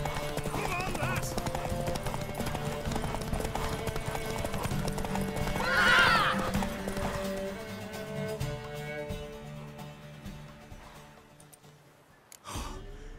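A horse's hooves clip-clop steadily in The Witcher 3, with a swelling neigh near the middle and snorts and breaths, close and fairly loud, while voices talk in the background.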